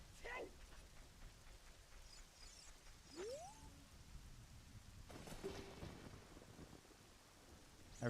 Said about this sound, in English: It's definitely for sure still raining right now.